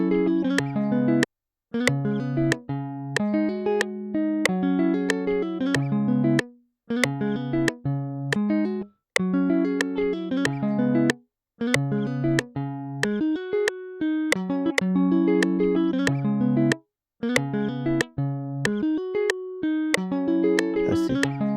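A virtual guitar melody programmed in FL Studio with hand-movement articulations for an Afro swing beat: quick plucked notes in a steady bouncing rhythm with short gaps, bright and close, with no voices.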